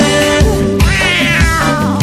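A cat's meows are woven loudly into a playful pop song, repeated mewing cries riding over the beat and music.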